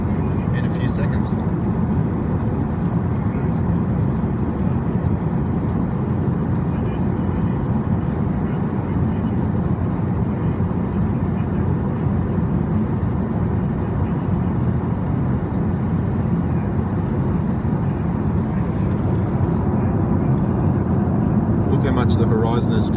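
Steady, broadband cabin roar inside an airliner climbing through about 30,000 feet toward a 33,000-foot cruise, a constant low rumble and hiss with no change throughout.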